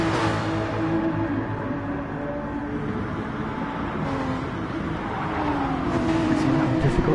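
Race cars jostle side by side in a GT Sport GT2 race at the Red Bull Ring, a steady loud drone of several engines with shifting pitch as they overtake, all of it continuous throughout.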